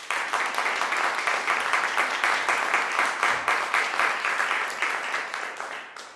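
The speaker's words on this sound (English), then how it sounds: "I'm going to give you another round of applause." An audience at a girls' school piano recital applauds with dense, sustained clapping that tapers off toward the end.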